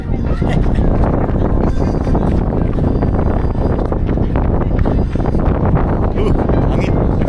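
Strong wind buffets the microphone in a constant roaring rush, loud and close, with a crowd murmuring underneath, in Tsim Sha Tsui, Hong Kong.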